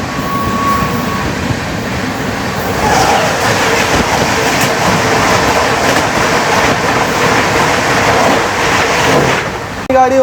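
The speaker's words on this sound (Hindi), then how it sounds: "सामने से आ रही है रानी कमलापति न्यू दिल्ली शताब्दी एक्सप्रेस" The Rani Kamlapati–New Delhi Shatabdi Express rushes past near Agra Cantt, heard from aboard another train: a loud, continuous rumble and roar of wheels and wind lasting the whole stretch, ending in a sharp burst.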